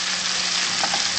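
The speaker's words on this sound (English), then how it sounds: "just sizzle this around so the oil gets to both places" Fish frying in garlic butter and oil in a pan over lowered heat gives a steady, close, loud sizzle that holds throughout, with a couple of faint soft clicks near the end.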